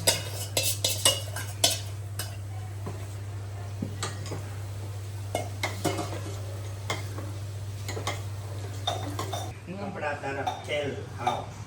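Ready-made bolo being stirred into oil, with repeated sharp clinks and scrapes of a utensil against the pot over a steady low hum, and people talking at times.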